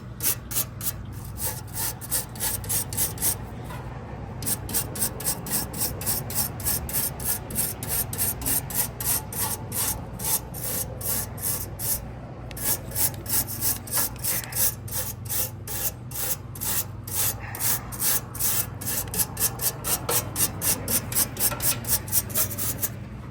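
Rhythmic scraping and rubbing strokes on the condenser coil of an air conditioner unit with its original 1978 TXV, repeated brisk back-and-forth passes in bursts, over a steady low hum, close and without speech.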